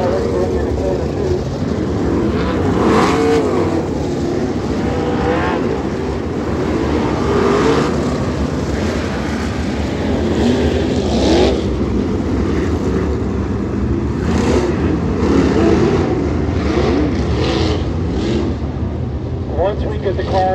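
Sprint race cars circling Kennedale Speedway, a continuous droning engine roar that swells and fades as the field passes, under announcer commentary over the loudspeakers.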